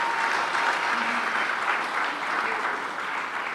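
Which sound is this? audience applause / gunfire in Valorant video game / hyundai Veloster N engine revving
audience applause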